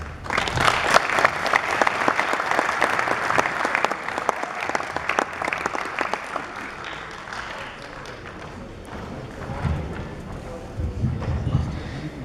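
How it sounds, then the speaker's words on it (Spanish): Audience applause for Dr. Oscar after a talk at an agro-mining conference in Cajamarca, dense clapping that holds strong for several seconds, then thins slightly and carries on with some murmuring beneath it. "Fuertes los aplausos para el doctor Oscar."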